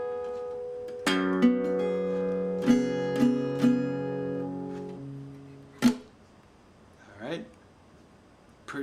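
Delta blues slide guitar riff played up the neck on an acoustic guitar, close and alone: sustained twangy chords with sliding notes and a few accented strums, ending in a sharp strike and fading ring.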